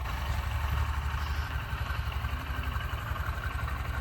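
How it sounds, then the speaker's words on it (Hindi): A Honda SP125 125cc motorcycle engine idles steadily nearby, a continuous low rumble with even vibration and no revving, alone without talk. "अब बाइक मैंने स्टार्ट कर ली है ना"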